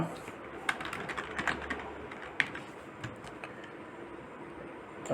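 Computer keyboard keys tapped in scattered short bursts at moderate distance, light clicks spaced irregularly over a steady room hum, with no voice.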